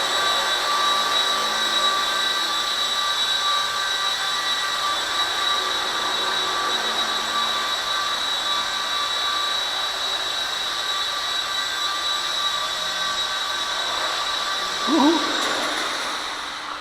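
A V913 RC helicopter fitted with new main and tail motors hovers indoors, giving a steady, loud high-pitched motor whine with rotor buzz throughout and a brief bump in pitch near the end.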